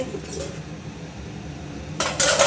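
Goat fat and meat being stirred in a cooking pot, with metallic scraping and clinking of a utensil against the pot over a low background hum, louder near the end.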